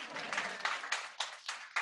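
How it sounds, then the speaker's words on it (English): A small audience claps for a Black woman architect, a quiet burst of scattered hand claps with a few sharper individual claps standing out toward the end. "everyone clap for her"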